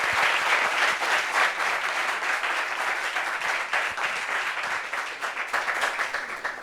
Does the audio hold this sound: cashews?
no